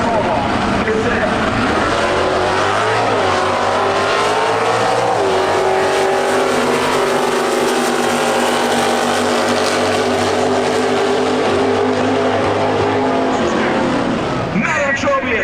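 NHRA drag racing cars roar off the line at full throttle at the Summit Nationals final rounds in Norwalk, Ohio, a loud, sustained engine howl that climbs in pitch, with a commentator talking over it.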